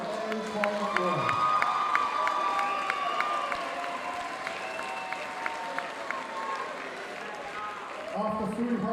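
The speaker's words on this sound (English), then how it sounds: "Please give both boxers a round of applause." A fight-night crowd at an amateur boxing club applauds both boxers after the final round, with steady clapping and cheering that fills the room, mixed with background chatter and a few shouts.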